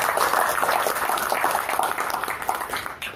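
An audience claps together at an orchid exhibition and anniversary event in Yogyakarta, a dense, loud burst of applause throughout.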